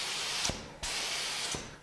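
Spray gun applying a coating, giving a continuous hissing spray in two bursts separated by a short break, close and clear with no talking.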